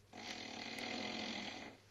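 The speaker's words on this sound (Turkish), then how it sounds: "Bu bir horlama sesi, bir yetişkinin horlaması." A recorded adult snore plays back as one breathy, raspy inhalation lasting about a second and a half, fairly quiet and isolated.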